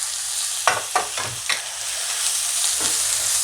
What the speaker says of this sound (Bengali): মশলাটাকে ভালো করে নেড়ে চেড়ে নোনাশ করে নেব।